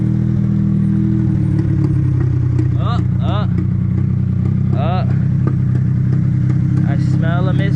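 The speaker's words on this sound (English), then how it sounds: "I'm gonna let it idle a little bit" A Honda Beat's engine idles roughly with a hiccuping, possible misfire, a loud steady rumble with uneven clatter throughout, plus faint higher whistling or squeaking tones over the top.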